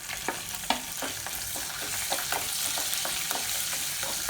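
Green chillies and ginger frying in hot tempering oil with mustard-seed style seasonings for tomato bath, a steady crackling sizzle with sharp pops and occasional spoon stirring clicks, close and alone.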